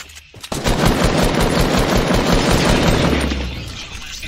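Loud automatic gunfire in a one-versus-one video game match: a fast, sustained burst of close shots that starts abruptly and tapers off toward the end.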